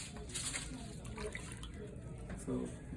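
Tea trickles and splashes into a cup, a faint, close, uneven pouring sound running throughout with a slightly louder gush near the end.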